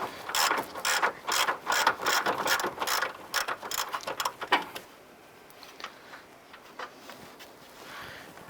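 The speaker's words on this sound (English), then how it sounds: "using an 18mm socket on a ratchet to go ahead and loosen this. We're going to go ahead and remove this nut completely." A ratchet turning an 18mm socket loosens an upper control arm nut on a 2002-2007 Jeep Liberty, giving rapid, loud pawl clicks in bursts for about five seconds before tapering to faint, scattered ticks.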